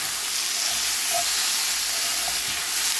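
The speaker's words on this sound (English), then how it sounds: "we're going to add our lamb. And we're just going to cook this until it gets all nice and brown" Ground lamb browns in oil in a cast iron skillet with a constant, close, loud sizzling hiss that holds steady throughout and is broken by a few small pops.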